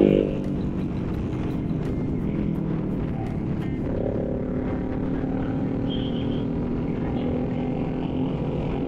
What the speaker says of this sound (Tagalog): Lakas ng muffler ni Kuya!